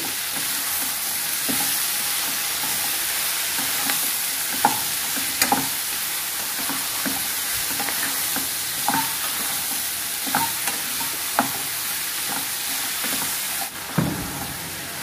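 A spoon stirs bottle gourd curry seasoned with salt, turmeric and coriander powder in a pan, giving irregular scraping knocks over a soft continuous sizzle, moderately close and unaccompanied by voices.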